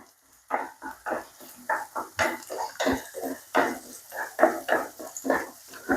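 A spoon stirs and sautés ingredients in a pan while a Kuttanad-style pearl spot fish dish is prepared, giving a steady run of close clinks and scrapes against the metal.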